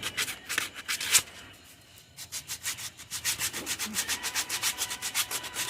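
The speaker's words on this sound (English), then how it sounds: "this 80 grit kind of makes short work of a lot of sanding." Rhythmic scratchy strokes of 80-grit sandpaper on a wooden glide bait fishing lure, a brief pause, then faster regular back-and-forth rubbing, close up.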